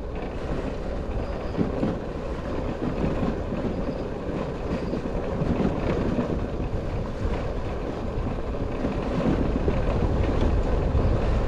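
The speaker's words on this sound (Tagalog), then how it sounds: "Ang lamig ng hangin dito guys." Cold wind blows on a high, newly built mountain road near a dam in Bulacan, Philippines, roaring and buffeting steadily against the microphone with no voices.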